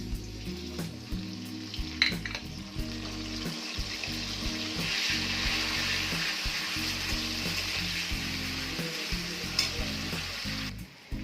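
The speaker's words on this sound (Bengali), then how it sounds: "আর দিয়ে দিচ্ছি আগে থেকে বেটে রাখা পেঁয়াজটা।" Ground onion paste, added with a bay leaf and a little sugar, sizzles and spits in hot oil in a pan for a fish head curry, with steady frying broken by the clatter and scrape of stirring.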